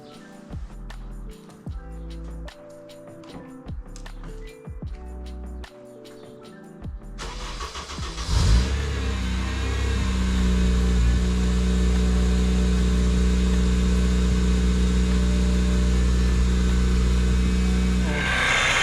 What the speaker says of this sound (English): I'm just going to go get a cold start real quick.